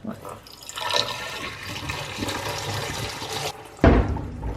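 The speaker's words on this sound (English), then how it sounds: "take this water right here and pour it inside of this liquid dispenser" Hot water pours and gurgles into the fabric dispenser of a washing machine, a steady splashing flow that ends in a sudden louder rush near the end. Close and fairly loud, with no talking.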